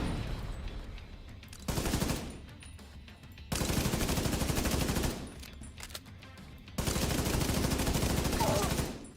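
Video game gunfire comes in three loud sustained bursts of rapid shots separated by short lulls, each volley lasting a couple of seconds, with faint talk in the background.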